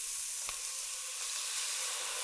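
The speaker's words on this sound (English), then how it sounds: "You can see it bubbling." Hot skillet after browning chicken, sizzling and bubbling steadily with browned bits in the pan, a continuous close hiss with one brief sharper crackle early on and no talking.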